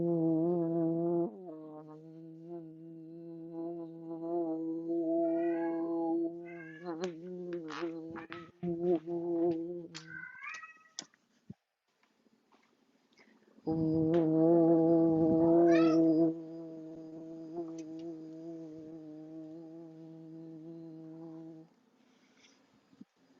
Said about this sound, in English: little white kitty who is making a whole lot of noise right now